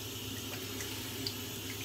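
Water from a tap rinses hair product off hands, a steady close splash and hiss running throughout with faint drips.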